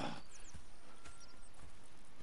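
Horse hooves clip-clopping in the Red Dead Redemption 2 video game, a few soft, irregular hoof thuds over a quiet outdoor ambience, with a brief whinny-like sound.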